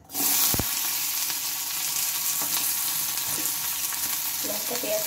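Chilli and onion dropped into hot mustard oil in a wok, giving a sudden loud hiss that settles into a steady, close sizzle with occasional stirring clinks and no talking.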